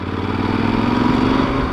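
A Yamaha Super Ténéré motorcycle engine putters at low revs while riding, a steady uneven chugging throb close by with a rattly, lumpy rhythm.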